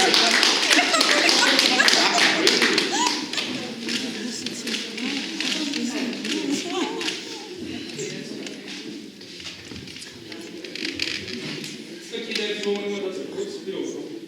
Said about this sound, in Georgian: ხათუნა ცოლაია აპლოდისმენტები